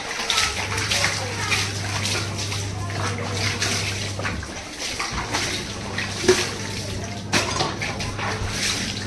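Running water flows while things are washed at home, with clinks of dishes or utensils and splashes over a steady tap stream that briefly cuts off midway; someone talks over it.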